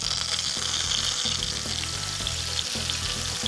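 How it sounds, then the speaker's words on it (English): Croutons soaked in milk fry in olive oil in a pan, hissing in a dense, steady sizzle that fills the clip. The sound is loud and close with faint knocks under it, and nobody talks. "And then just fry them."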